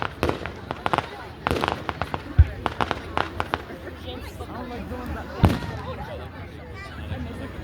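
Canada Day town fireworks boom repeatedly in the open air, with sharp cracking bursts and two heavier deep booms among them, while people chatter in the background.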